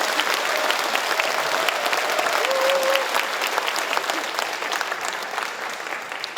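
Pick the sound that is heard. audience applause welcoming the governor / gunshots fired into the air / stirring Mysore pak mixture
audience applause welcoming the governor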